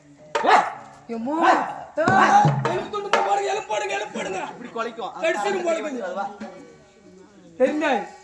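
A person imitates a mad dog, letting out a series of loud, rough barking bursts between stretches of speech.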